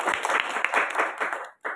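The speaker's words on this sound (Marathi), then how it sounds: "त्यांच्यासाठी पुन्हा एकदा टाळ्या मोठ्याने." Audience applause at a school talk, a dense burst of many hands clapping close and steady for over a second, cutting out briefly before a short final flurry.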